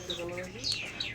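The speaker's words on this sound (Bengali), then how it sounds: "বেলজিয়াম টেল মার্ক, বেলজিয়াম কবুতর।" A Belgian tail mark fancy pigeon calls in a short, close burst of high, thin chirping notes with a faint murmur underneath.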